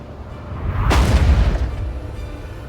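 An explosive object blowing up after being shot in the Alan Wake video game, one loud deep boom with a sharp onset followed by a long rumbling low decay.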